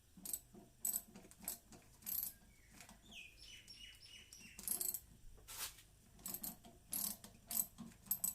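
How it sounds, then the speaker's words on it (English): A hand ratchet is tightening bolts on a Toyota Celica, giving repeated short clicking bursts in an irregular rhythm over about eight seconds, faint and close, with quiet gaps between strokes. "let's tighten them up properly with the ratchet"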